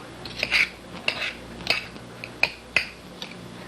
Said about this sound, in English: you can take 2 knives or a fork and knife and just break this up